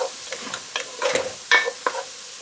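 Food softens in butter in a pan over a low flame, with scraping stirs and soft sizzling in a few separate bursts, heard close up and without any talk.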